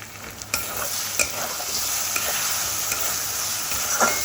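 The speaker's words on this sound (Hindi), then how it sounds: "सब्जियाँ फ्राई हो गई हैं" Vegetables fry in a pan with a continuous hiss, broken by sharp spatula knocks and scrapes as they are stirred. The sound is close and clear, with no speech.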